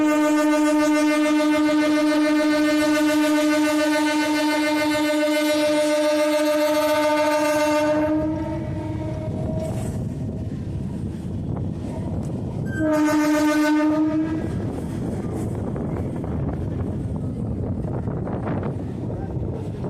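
A local train runs on the main line, a loud sustained horn blast sounding close for several seconds, then a rumbling roll of wagons before a second short horn blast and continued running noise.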